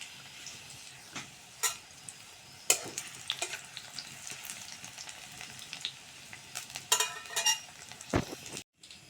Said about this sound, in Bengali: পেঁয়াজ কুচিটা আমি হালকা করে ভেজে নেব।